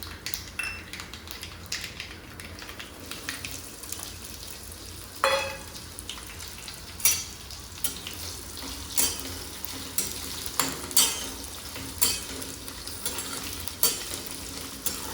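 Raw mango pieces cook in a pan with whole spices, asafoetida and salt for a Gujarati-style pickle, a soft steady sizzle broken by occasional spoon scrapes and stirring clinks.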